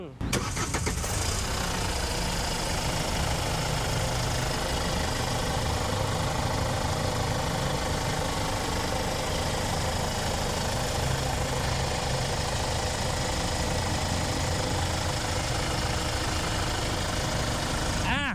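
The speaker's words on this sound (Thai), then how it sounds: "ฟังเสียงเครื่องยนต์กัน" The 2.5-litre diesel engine of a 2019 Hyundai H1 van starts and then runs steadily at idle, a loud, even, close-up mechanical rumble that continues without break.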